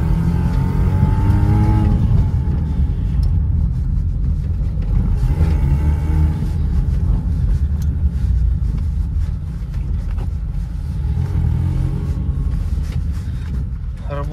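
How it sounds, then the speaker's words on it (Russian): Chevrolet Cruze engine pulling through the gears, a loud close rumbling drone that rises and eases as the car accelerates, steady and without talk. "Работает у нас двигатель ровно."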